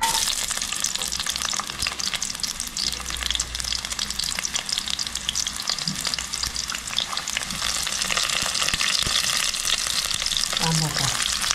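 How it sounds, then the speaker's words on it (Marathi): Onion sizzles in hot oil in a pan while a green cashew curry is cooked, a dense continuous hiss and crackle with stirring scrapes, close and loud, with a faint low hum beneath. "तेल तापलं काय टाकणार कांदो,"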